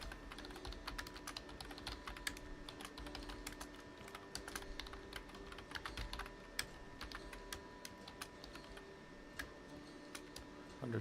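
Someone types on a computer keyboard, a quiet, steady run of irregular key clicks with occasional sharper taps, close by and without talk.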